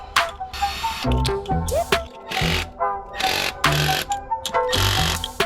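A small handheld roadside ratchet clicks in quick bursts with short pauses while working on the downpipe of a Stage 2 tuned MK7 car, loud and close.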